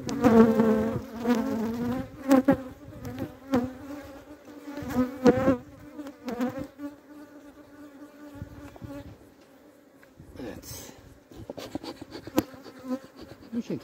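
Honeybees buzzing at a two-storey beehive, a loud close droning hum that swells and fades as bees pass near, with sharp knocks and handling noises scattered throughout.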